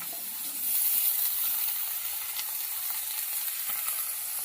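Eggplant, potato and radish pieces fry in hot oil for a puti fish curry, giving a loud, continuous hissing sizzle that swells as the vegetables go in and then holds steady up close.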